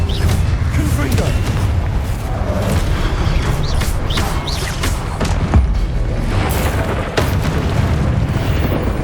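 Confringo fire-spell blasts in Hogwarts Legacy, several booming explosions and crashes in quick succession with heavy low rumble, mixed with game combat effects.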